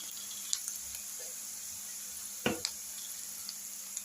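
Turmeric and asafoetida powder frying in hot oil for a lime pickle, a faint steady sizzle with a few soft clinks of a utensil against the pan, no talking.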